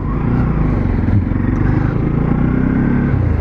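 A motorcycle engine rumbles steadily at close range, with a rough, bumpy texture as it rides over an unrepaired, rough road in Chernihiv.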